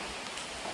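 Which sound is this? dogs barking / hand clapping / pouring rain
pouring rain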